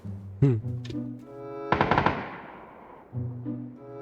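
A short burst of rapid gunfire rings out in a PUBG match, several quick shots clustered together between stretches of voices.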